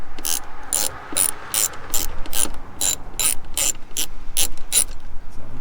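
A hand ratchet fitted with a T20 Torx bit loosens bolts on a 2006 Mustang GT, giving a loud, close, even run of rapid clicking strokes with short gaps between them.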